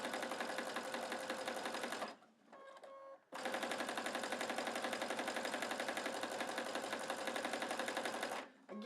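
A sewing machine stitching a rope coil basket, running in a fast, even whirr for two long stretches split by a short pause, fairly close and with no talking.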